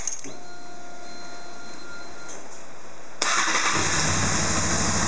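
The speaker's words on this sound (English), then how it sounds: "So I'll start the bike, wait for the O2 sensor to heat up," A motorcycle engine cranks and fires, settling into a steady idle before a sudden louder, broadband roar takes over for the last couple of seconds, close and alone with no talk.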